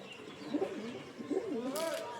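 Pigeons with tightly set tails coo softly in low, wavering phrases, two or three rounded calls close by, with a brief burst of wing flutter or rustle near the end.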